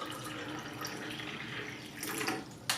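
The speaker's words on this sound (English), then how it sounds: "Now I'll pour water from my Brita filter." Water pouring from a Brita 10-cup everyday pitcher in a steady, close stream, rising a little in level near the end, with no talk.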